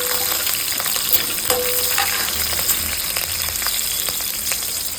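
A pan fries steadily with a continuous close sizzle and crackle, broken by occasional clinks and scrapes of a stirring utensil, with no voices.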